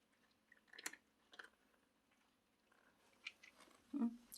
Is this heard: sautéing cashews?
no